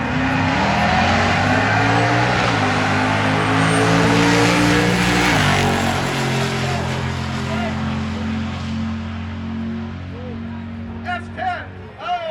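Drag racing cars, including a Suburban, S10 and Gremlin, launch at a duct tape drag event, with loud engines roaring and rising steadily in pitch as they accelerate away; crowd voices are faintly audible near the end.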